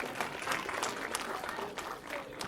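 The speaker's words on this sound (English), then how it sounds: "So they deserve a round of applause." Audience applause at a Ramadan community ceremony in East Brunswick, a dense spread of clapping with some crowd noise, moderately quiet and steady across the moment.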